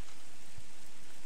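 Rain falls in Minecraft as a constant soft hiss of pattering drops, with one low thump partway through and no speech.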